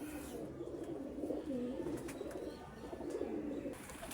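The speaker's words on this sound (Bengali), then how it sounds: "আমার সবগুলা কবুতর একসাথে খাবার খাচ্ছে" Domestic pigeons, including a khaki pair, feeding together, with soft repeated cooing phrases that rise and fall at a moderate distance over a low background hiss.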